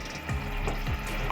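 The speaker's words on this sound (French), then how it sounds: "Je vais mettre un peu d'huile dans ma marmite." Oil goes into a hot cooking pot on the stove, making a steady, close sizzling hiss that holds evenly through the moment, with a few faint bubbling pops and no voices.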